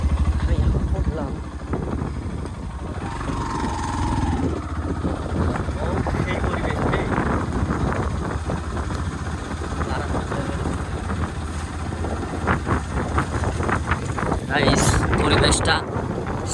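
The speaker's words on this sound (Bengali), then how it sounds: "পরিবেশের আওয়াজটা শোনেন, বাতাসের আওয়াজ, বাতাসের আওয়াজ তো হয়" Strong wind buffets outdoors in a steady, loud roar across the microphone, with gusty rushes throughout while someone talks over it.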